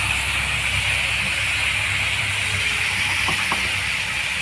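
Pineapple juice hitting a hot pan of pork for menudo, giving a loud, steady, close hiss and sizzle throughout with faint clinks near the end.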